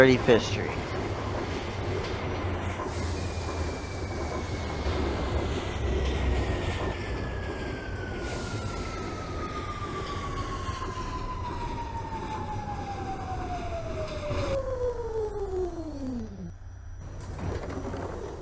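An R46 C subway train runs in the OpenBVE train simulator game, with a steady rumbling hum and a long, clear whine that slides downward as the train slows, ending with a brief drop-off and pause.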